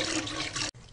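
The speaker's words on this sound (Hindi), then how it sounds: "देखी दीदी, इकर में 100 लीटर पानी डालत है" Water gushes steadily into a container for diluting three-day-old buttermilk into a sour spray mix, a full broad pour close by that cuts off abruptly near the end, then resumes more softly.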